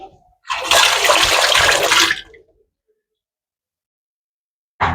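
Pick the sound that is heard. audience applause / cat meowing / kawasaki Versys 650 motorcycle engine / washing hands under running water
washing hands under running water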